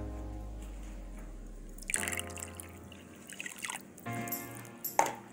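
Water is poured into a chiffon cake mixture of oil and egg yolks in a bowl, a quiet trickling and splashing in short bursts with a low hum fading out early.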